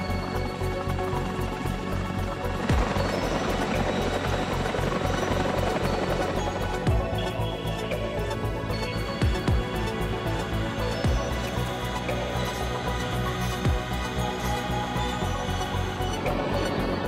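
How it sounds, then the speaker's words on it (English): A Chinook military helicopter flies with a loud, continuous rotor thump and turbine roar that holds steady throughout. "the Chinook has emerged as a high-speed, versatile aircraft outfitted with multiple loading options and designed for a wide range of military and civilian applications"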